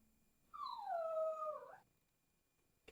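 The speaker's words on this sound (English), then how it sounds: "Did I just hear a dog whimper?" A dog whimpers in the video game Hero-U: one drawn-out, wavering high whine lasting just over a second, clear and alone against near silence.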